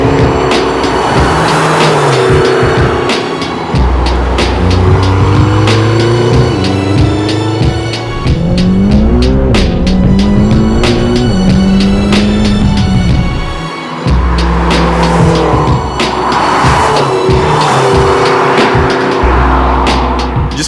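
A 620-horsepower McLaren GT is driven hard on mountain roads in southern France, its engine revving loud and close through repeated gear changes while the tires squeal through the corners.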